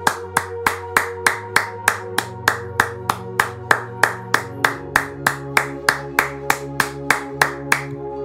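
A worship congregation claps in unison, sharp, evenly spaced claps at about three per second, over sustained keyboard-like music chords.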